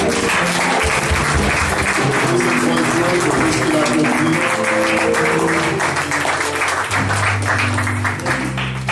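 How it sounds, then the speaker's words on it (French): A church congregation applauds loudly at a resurrection-themed service, sustained dense clapping for nine seconds over a steady backdrop of music and a voice. "Acclame encore très fort."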